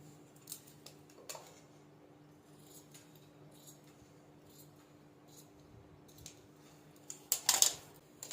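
Scissors cut through fabric for a sleeveless kurti front, making soft, sparse snips against a quiet room hum that build into a quick cluster of louder snipping at the end, with no voices.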